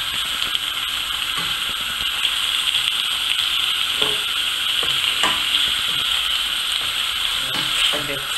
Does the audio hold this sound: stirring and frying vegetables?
yes